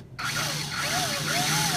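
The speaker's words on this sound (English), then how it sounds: "The drill is right in the center of that black dot that I put on there, so the hole is disappearing as I'm penetrating." A power drill bores a hole into the body of a dump truck, its motor whining steadily with a rising and falling pitch as the bit cuts, close and continuous after a brief quiet start.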